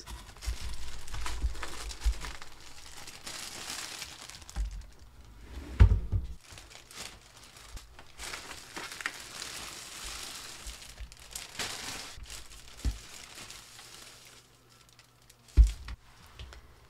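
Packaging around a YUNZII Actto B303 retro typewriter-style Bluetooth keyboard crinkles and rustles as it is pulled from its box, with soft close handling sounds, a few sharper bumps, and no talking.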